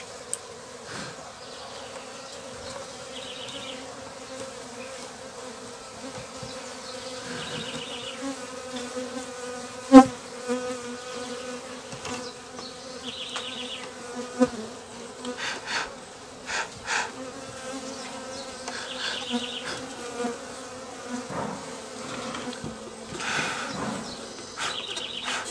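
Honeybees hum steadily around an open hive while a colony is split in winter, a continuous low drone with occasional louder bees passing near, scattered clicks and knocks from handling, and faint bird chirps in the background.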